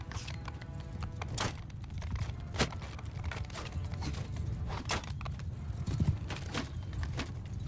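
Horse hooves clip-clop at an irregular gait with harness creaks and jingling tack in the video game Mount & Blade II: Bannerlord, moderately close over low battlefield ambience.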